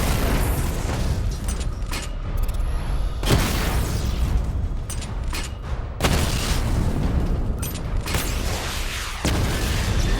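Heavy missile barrage explosions boom one after another in Batman Arkham Knight, loud and dense, with rumbling blasts and debris crashing over steady background noise.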